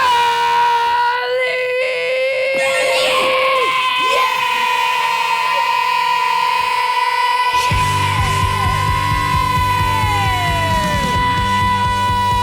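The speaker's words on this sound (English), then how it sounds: "Yells louder every week." Loud, sustained yelling from a voice on a radio show, rising over a steady musical bed with drums entering partway through; the shout stretches and bends in pitch for several seconds.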